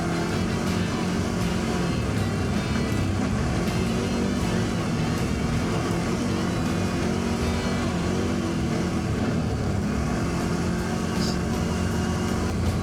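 The Loncin XWolf 1000 ATV's engine drones steadily and loudly while riding, a dense rumbling hum with wind and road noise layered over it throughout.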